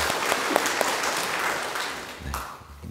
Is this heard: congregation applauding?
yes